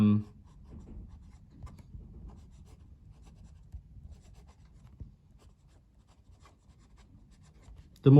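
An architect-grind fountain pen nib scratches softly across paper in short, irregular strokes as a left-handed writer forms letters, faint and close, with brief louder noises at the very start and end.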